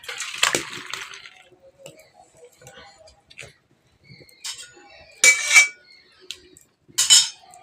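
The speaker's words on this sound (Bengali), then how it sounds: "এটা এখন আমি কড়াটা নামিয়ে ঢেলে নেব।" Cooked nettle leaves are tipped out of a kadai in a home kitchen: a sharp scrape and clatter at the start, a few light taps, then two louder bursts of metal scraping and knocking against a vessel, with no talk.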